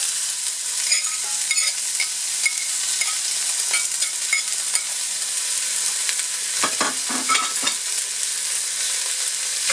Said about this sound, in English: To this, add carrot and potatoes.